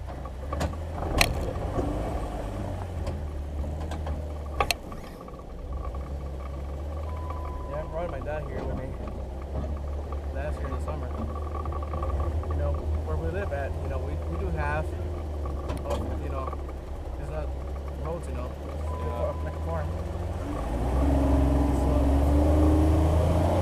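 A Jeep engine strains as it climbs a hill off-road on a farm, without lockers, the motor droning steadily and surging louder near the end, with someone talking over it.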